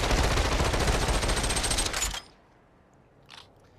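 A UMP is fired one-handed in the VR game Population: One, a dense rapid burst of automatic gunfire lasting about two seconds that cuts off abruptly, followed by near silence and a faint brief rustle.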